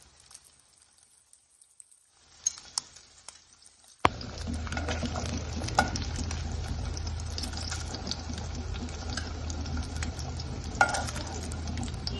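Vanjeera fish shallow frying in oil, quiet for the first few seconds with a few faint crackles, then a loud steady sizzle bursts in at about four seconds and holds with scattered pops and spatters.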